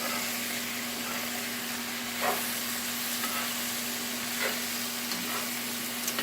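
Vegetables for a vegetarian lasagna sizzle and fry steadily in a pan, with a few soft scraping stirs standing out above the constant crackle and a low hum beneath.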